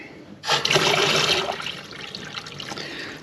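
Water running from a tap as the supply returns at low pressure: a sudden gush starts, then settles into a steady close splashing flow that slowly eases to a thinner trickle.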